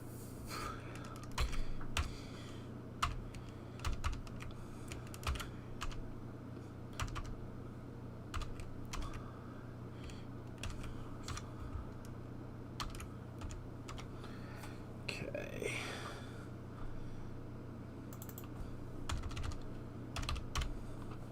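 Keys clatter on a computer keyboard while a password is typed, one of two keyboards in use on a Linux gaming PC; steady close tapping with irregular bursts and pauses over a low constant hum, no talking.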